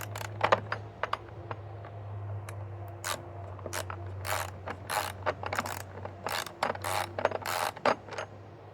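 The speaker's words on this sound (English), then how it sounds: "you're just going to have your own socket wrench to do these with" Ratchet socket wrench clicking as it tightens a 10 mm bolt on Cybertruck crossbars, with bursts of rapid pawl clicks in quick strokes, close up over a low steady hum.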